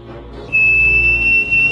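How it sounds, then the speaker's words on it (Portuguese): A single high, piercing whistle, part of a mysterious film soundtrack, swells in and holds as one loud, sustained tone over a low, murky background. "Os assobios parecem que ficavam mais perto e mais perto."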